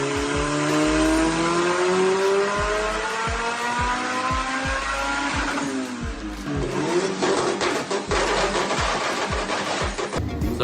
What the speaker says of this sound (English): under the hood is a built B18 with a big fat turbo that sounds